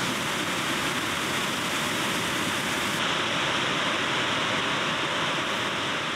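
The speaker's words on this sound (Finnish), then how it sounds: "näyttäisi olevan ihan kunnon vesiputous" A powerful waterfall in the Sarek wilderness roars as a dense, unbroken wash of white noise, loud and close, with no other sounds.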